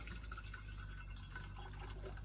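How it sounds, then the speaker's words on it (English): Colloidal silver liquid trickles and splashes faintly into a container, a quiet, steady pour running throughout. "Let's take our older batch of colloidal silver. I'm gonna pour some in there."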